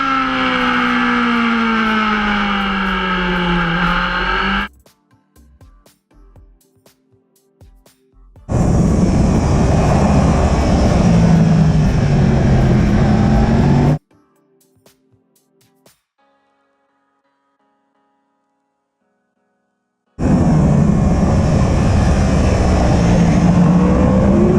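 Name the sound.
racing motorbike accelerating after braking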